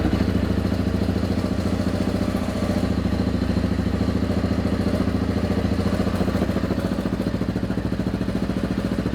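A motorcycle with a freshly repaired stainless muffler bracket idles close by, a steady, even mechanical chug with light clatter holding at one level for about nine seconds, with no voices.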